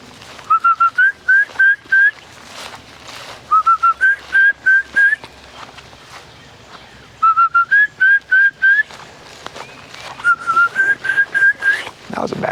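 Repeated two-note human whistles, short rising calls in bursts with pauses between, loud and close, over faint rain-like background noise.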